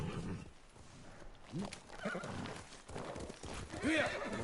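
Horses gallop in the video game Ghost of Tsushima with rhythmic hoofbeats and a whinny near the end, while a person talks over the riding sounds.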